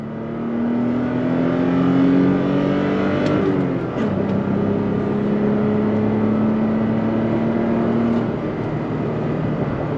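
A 2022 Toyota Tacoma TRD Pro with a 6-speed manual accelerates in 4-high onto paved tarmac. The engine climbs close and clear, dips briefly around a gear change, then pulls steadily upward again.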